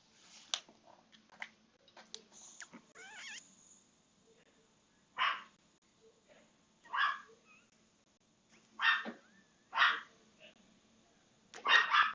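A dog barks in several separate bursts, moderately close, with quiet gaps between them and no talking.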